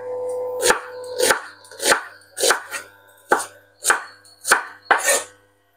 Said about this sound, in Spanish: Y mientras voy a ir cortando la cebolla.